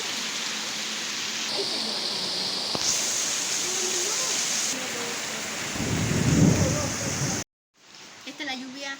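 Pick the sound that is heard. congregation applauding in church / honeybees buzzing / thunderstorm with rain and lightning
thunderstorm with rain and lightning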